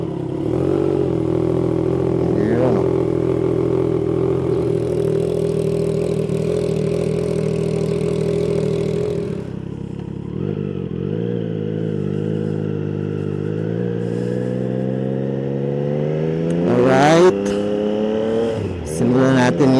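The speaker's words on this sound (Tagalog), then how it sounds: "Try natin i-check yung sound ng bago nating muffler." 2025 Triumph Trident 660 with a new muffler, started cold, settling into a steady close idle with a deep tonal exhaust note, then a brief sharp rev before it drops back to idle.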